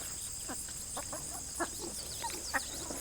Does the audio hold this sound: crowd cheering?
no